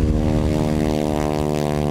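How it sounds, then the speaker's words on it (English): A 1942 SNJ propeller plane's radial engine drones loud and steady throughout, a close, continuous rumble with a pulsing beat and no voices. "he took off in a 1942 SNJ Old Yeller plane for a two hour aerial tour"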